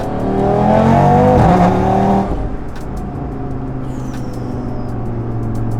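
A stage 2 tuned Audi RS3 running on pump gas downshifts to second and accelerates hard. The engine roars loudly and climbs, then cuts off abruptly and gives way to a quieter cruising hum.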